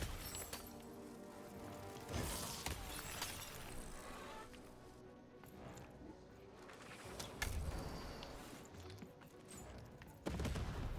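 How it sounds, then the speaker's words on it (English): A cannon fires in the video game Lost in Random, with several sharp blasts and crashing impacts spread through a busy, fairly faint game soundtrack. "Shoot the button to fire the cannon."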